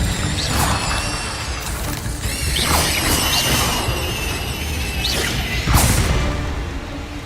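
In a Harry Potter video game, an Incendio fire spell is cast with loud whooshing bursts and crackling mechanical clatter, recurring several times over a dense, busy background of game effects.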